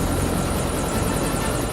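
A civil helicopter hovers over Amazon forest with a loud, continuous, close rotor roar and a steady rhythmic chop, filling the whole moment with no voices.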